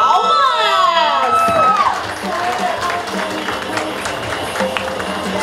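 Crowd at a cosplay parade applauding and cheering, with shouts and whoops layered over loud ongoing clapping and voices nearby.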